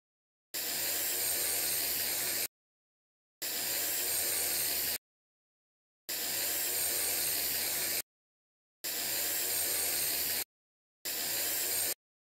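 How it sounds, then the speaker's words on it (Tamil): Five bursts of aerosol chain lube spraying onto a motorcycle chain, hissing, each about two seconds long with silent gaps between, close and steady. "செயின் லூப் வச்சு செயின் ஃபுல்லாக ஸ்ப்ரே பண்ணுங்கள்"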